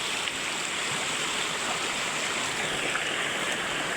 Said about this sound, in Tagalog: dadaan lang po kami sa ilog para mahugasan yung mga paa namin